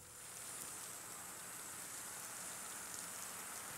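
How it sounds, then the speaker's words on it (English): Steady rain falling on the leaves of streamside trees, a continuous dense hiss of drops at even, moderate loudness with no voices. "Rain falling on trees is slowed as it drops on leaves."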